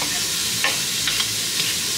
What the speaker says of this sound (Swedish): Det här ska då stekas i en stor stekpanna eller en gryta